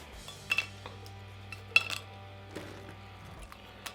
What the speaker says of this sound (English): I'm going to use this nice serving platter. We're going to start by layering our vanilla wafers at the bottom, just like so.